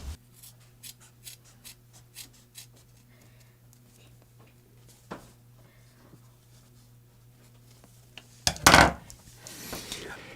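Scissors snip through sewn fabric for custom doll clothes in a quick series of soft close cuts and rustles, over a faint steady hum, ending with a louder burst of handling noise.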